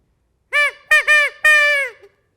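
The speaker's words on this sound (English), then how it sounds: "the duck call" A duck call used as a Foley percussion instrument gives four nasal, honking quacks, close and fairly loud, the last two longer and drawn out, heard on their own with no talk.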